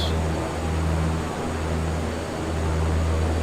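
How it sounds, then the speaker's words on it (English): A Viking Air CL-415 water bomber skims Crater Lake to scoop water, its engine drone and airflow forming a steady, loud, low hum that holds without break. "So supposed to just skim the top of the water like this, I guess."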